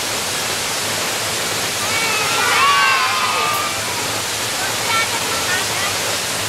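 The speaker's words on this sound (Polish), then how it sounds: "Jak wam się podoba wodospad?" A waterfall roars as a steady, loud broadband rush of falling water, with faint voices of people and children mixed into the constant noise.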